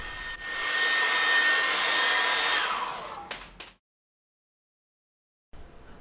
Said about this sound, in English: For this I use a hairdryer.